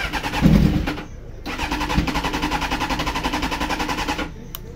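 A 2005 carbureted Honda Hornet motorcycle engine is cranked and fires, a loud sputtering burst, a brief pause, then a rapid, steady pulsing idle close up that runs for several seconds before a short break.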